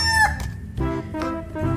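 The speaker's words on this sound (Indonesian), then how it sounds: "yang ini ada ayam berkokok" A rooster crows in a long harmonic call, followed by shorter clucking bursts, close and clear with no talk.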